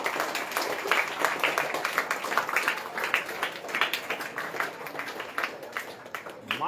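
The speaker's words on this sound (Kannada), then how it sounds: "ಮಾತಾಡಿರೋರಿಗೆ ಜೋರಾಗಿ ಚಪ್ಪಾಳೆ ತಟ್ಟಿ." A student audience at a camp interaction session claps loudly in dense, sustained applause with a few voices mixed in.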